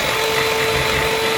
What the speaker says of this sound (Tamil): இப்படி எலக்ட்ரிக் பீட்டர் ஒன்று இருந்தால் அவங்களுக்கு ஈஸியாக இருக்கும் டபுள் க்ரீமை மிக்ஸ் பண்ணி எடுத்துக்கொள்ள